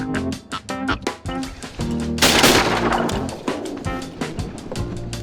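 Rapid bursts of distant shotgun fire from a nearby duck hunting blind crack in quick succession, with a dense volley in the middle, heard over outdoor bayou background noise.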